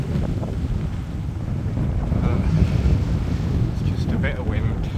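Steady, loud wind buffeting a microphone while cycling on a warm day outdoors, a continuous low roar with no gaps.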